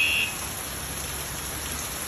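Heavy rain pours in Honolulu as a dense, steady hiss filling the whole clip, with a short electronic beep at the very start.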